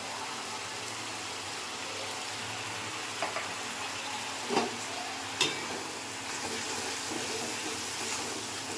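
Turmeric, cumin and coriander powder with salt sautéing in oil, a soft steady sizzle with a few faint clinks and scrapes from stirring.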